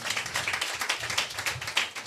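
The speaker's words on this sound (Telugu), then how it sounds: "చప్పట్లు కొడదామా?" A church congregation at a Sunday service claps together, a steady, dense patter of many hands held at moderate level for about two seconds, with no voices over it.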